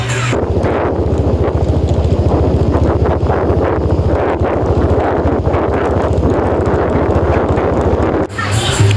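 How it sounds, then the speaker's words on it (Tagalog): Strong wind buffets the microphone in a constant heavy roar while riding a Rusi RFi 175 motorcycle, with rough low rumbling gusts throughout and a brief drop near the end. "May rinig mo talaga yung lakas ng hangin"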